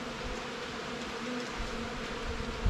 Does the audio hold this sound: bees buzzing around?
yes